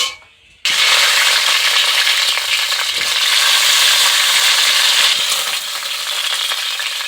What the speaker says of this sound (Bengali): আমার তেলটা গরম হয়ে গেছে, ফুলকপিটাকে একটু ভেজে নেব।